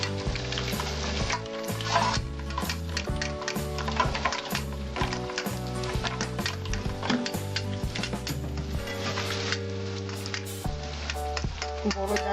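About 100 grams of yogurt is beaten in a metal plate for a katla fish kalia, making rapid, rhythmic clicking and scraping strokes that repeat closely and steadily for about twelve seconds.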